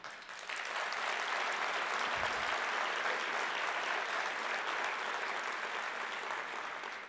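A crowd at the 2015 Richmond State of the City address claps in a long, even round of applause that starts abruptly and stays loud and dense throughout.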